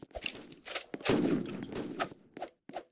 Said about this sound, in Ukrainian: ти тут стріляєш